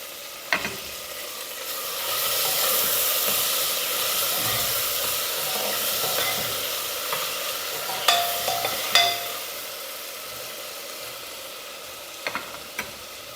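Cut tomato pieces land in a hot pan and begin frying. A loud hiss and sizzle swells and holds steady, with a few sharp clinks and taps of a utensil near the middle and near the end.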